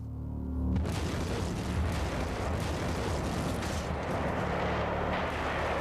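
Torpedoes strike a ship in a deep explosion that booms out suddenly and leaves a dense, roaring rumble that keeps going, loud and heavy, like distant blasts rolling together.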